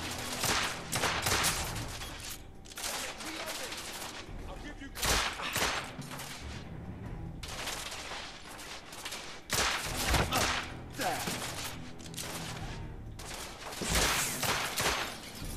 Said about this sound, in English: Let's get this pistol back and do some pistoling since I'm no good.